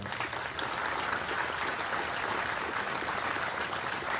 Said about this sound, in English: let's give our awardees a big round of applause